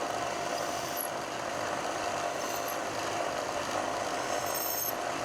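A knee mill spot drills holes in a metal part for a thread milling attachment, giving a steady, loud, continuous machining whir and hum with faint high squeals, no talk.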